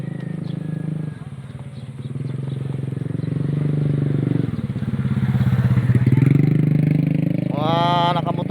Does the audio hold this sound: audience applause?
no